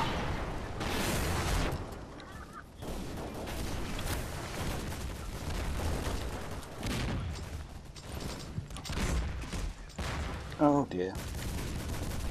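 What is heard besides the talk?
explosions in a video game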